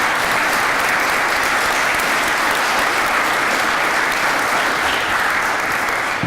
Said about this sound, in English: Let's give a big round of applause for that.